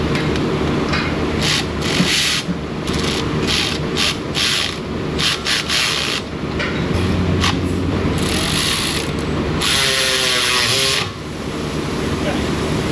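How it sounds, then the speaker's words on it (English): A Milwaukee electric ratchet whirs loudly and continuously at close range while working on a car, its grinding, rubbing buzz running in long bursts with brief pauses, and a voice can be heard amid the noise. "Really hard on your electric ratchet when you do that. But don't worry, it's a Milwaukee, it can handle it."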